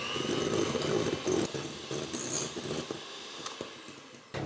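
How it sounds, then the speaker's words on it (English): A handheld electric mixer whirs as it creams butter with sugar for an upside-down stone fruit cake, a steady close motor drone with shifting pitch as the beaters move, easing off near the end. "I'm just using a handheld mixer"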